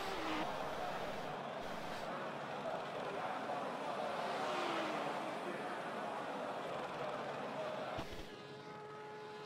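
Audi R8 GT3 race car engine lapping Monza in a racing video game, a sustained high revving drone with pitch sweeps, heard under continuous commentary talk.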